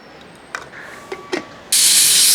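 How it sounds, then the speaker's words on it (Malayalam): A pressure cooker on the stove, cooking Kerala-style mutton curry, lets out a loud steady hissing whistle of steam that bursts in abruptly after a few faint clicks and rattles and holds through the end. "മൂന്ന് വിസിലായിട്ടുണ്ട് ഇനി ഇതങ്ങ് നിർത്താം"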